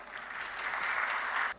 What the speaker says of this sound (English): A huge round of applause for each one of you in the hall.